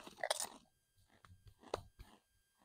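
Crunchy bites of Lay's Kettle Cooked Ruffles All Dressed potato chips, a few loud snaps followed by quieter chewing crunches, close up with no talking.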